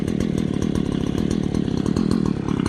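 A Stihl HL 94K extended hedge trimmer with an oscillating head and 2-foot bar runs nearby, its small two-stroke engine buzzing loud and steady with a rapid rattling chatter from the cutting blades.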